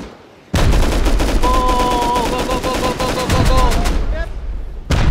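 Rapid automatic gunfire during a video game raid, a loud dense burst of shots lasting several seconds, close up, with a voice underneath.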